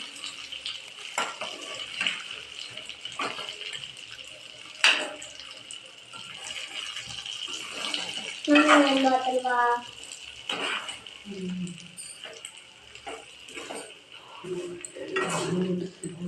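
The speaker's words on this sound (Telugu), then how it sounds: "ఇప్పుడు చిన్నగా కలుపుకుందాం." Eggplant garlic curry is stirred in a pan with a utensil, making intermittent scraping and clattering against the metal alongside some sizzling, with a brief voice partway through.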